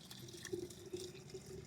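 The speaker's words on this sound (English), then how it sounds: "I'm just going to pour it straight into the tank here." Hot water from a camp stove poured into a portable Geyser camp shower tank: a faint, brief gurgling trickle of liquid filling a container, low and continuous.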